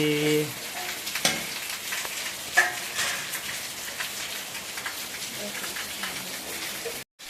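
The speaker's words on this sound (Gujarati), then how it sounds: "એવો સરસ વરસાદ ચાલુ છે" Steady rain patters and hisses in a broad, even wash, with a few louder clatters standing out, then it cuts off abruptly near the end.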